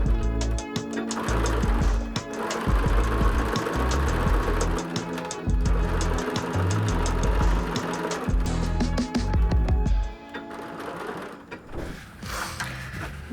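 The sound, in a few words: sewing machine stitching embellishment onto a clutch bag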